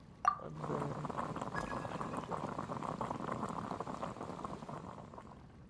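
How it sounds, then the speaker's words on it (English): Water boils steadily in a pot in the Genshin Impact video game, a continuous bubbling hiss after a short clink at the start, close and even for several seconds with no voices. "I'll boil some water."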